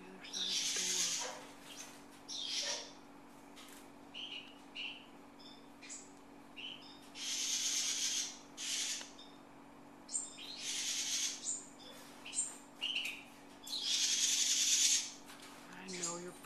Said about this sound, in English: There's a bird on the other side of the door.